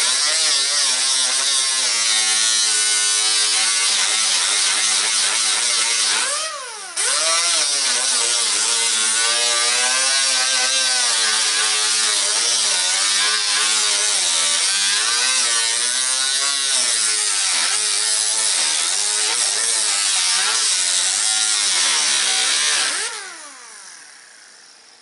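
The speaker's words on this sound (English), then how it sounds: "I like taking my little air sander here" Small air sander running nearly nonstop on the steel body of a 1977 Toyota Celica GT, a loud, close, steady buzzing whine with one brief dip partway through before winding down at the end.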